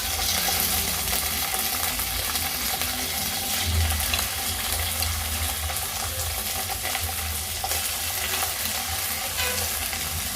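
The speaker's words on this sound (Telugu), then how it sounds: "ఇప్పుడు గోరుచిక్కులు వేసేసుకుందాం." Cluster beans being stir-fried in a pan with coconut, village style, a dense continuous sizzle and crackle with steady stirring scrapes throughout, close and fairly loud, no talk.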